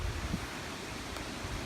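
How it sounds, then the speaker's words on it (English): Strong wind from a severe squall line storm with gusts near 60 mph, rushing and roaring steadily against the microphone outdoors, with no voices. "It's just really strong winds"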